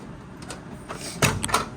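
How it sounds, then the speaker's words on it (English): A microwave door in a 2026 Forest River Rockwood Geo Pro G15TB travel trailer pops open after its door-open button is pressed, giving a short click, then a sharper release clunk and a couple of brief rattles, close by and fairly quiet. "you need to actually hit this button here that says door open"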